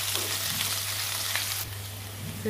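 Finely chopped ginger and garlic fry in a pan for Goan prawn balchao, a constant close hiss and crackle of hot oil with faint stirring, dropping slightly in level partway through, no voices.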